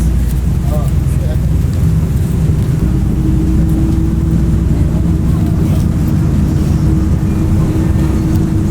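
Inside a moving BRT bus in Dakar, a steady low engine drone and road rumble hum without letup, with passengers talking over it close by.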